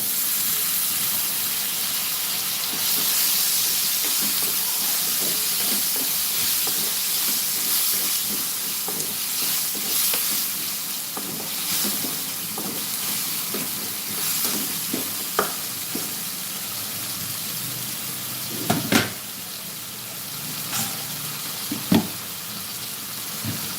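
Tomato being sautéed with prawns in a hot pan gives a steady sizzle and hiss with scattered stirring clicks and a few sharper scrapes, close and fairly loud, with no talking.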